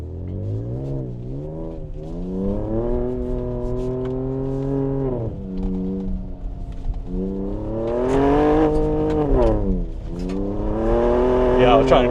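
A Ford Ranger Raptor pickup driving off-road in manual mode, its engine note climbing and dropping through the gears in long, smooth revving sweeps, loud and close from inside the cab.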